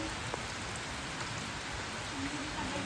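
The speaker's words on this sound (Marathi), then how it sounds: "पाऊस पडत आहे" Rain falls steadily in a Konkan village in May, a soft continuous patter of drops with a few faint distant background sounds and no talking.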